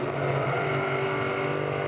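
A 700 horsepower speedboat engine on the water, a loud, steady, droning roar with a sustained tonal hum and no letup across the short stretch, close by and without speech.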